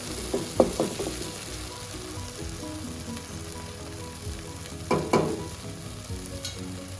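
Onions and tomatoes sauté in a pan for Kerala-style chicken perattu, with a steady close sizzle and frying hiss running throughout and occasional scraping stirs of a spoon against the pan, no talking.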